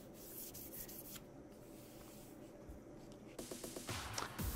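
Steady dry rubbing of fine 1500 and then 3000 grit sandpaper across an MDF desk top, a continuous soft scratchy hiss that grows slightly louder and more rhythmic toward the end, no speech.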